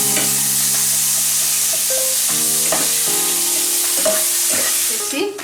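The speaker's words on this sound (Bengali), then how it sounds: "দিচ্ছি আমি রসুন বাটা 1 চামচ, আদা বাটা 1 চামচ।" Garlic paste and ginger paste sizzle steadily in a hot pan while making egg biryani, a continuous loud frying hiss broken by a few soft stirring scrapes and clinks, with no talking.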